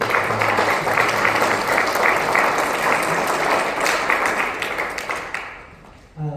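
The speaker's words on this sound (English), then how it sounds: "can we get a round of applause" A round of applause at an information session on rehabilitative justice models, dense clapping from an audience held steady for several seconds before thinning and fading out near the end.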